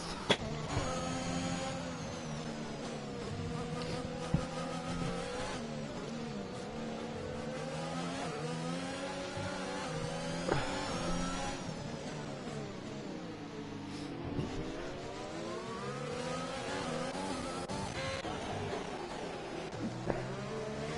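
Formula 1 cars from the F1 2021 racing game race around the Singapore circuit. Their high engine whines rise and fall through gear changes, overlap and sweep past, with occasional sharp tire squeals.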